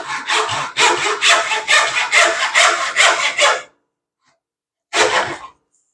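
Hand saw cutting through wood to form a half-lap joint: a loud, close run of rhythmic rasping strokes for a few seconds, a pause, then one last short stroke.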